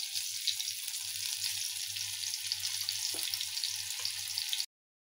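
Bombil fish dusted in fine semolina sizzles steadily in hot oil, a close, continuous frying hiss that cuts off abruptly near the end.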